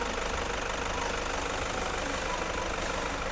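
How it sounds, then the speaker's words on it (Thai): A Toyota Commuter van's 3.0 diesel engine idles steadily with a fast, even knocking clatter, heard close and continuous with no voices. "ตอนนี้สตาร์ทเครื่องยนต์อยู่ค่ะ คุณลูกค้าฟังเสียงเครื่องยนต์ได้เลย"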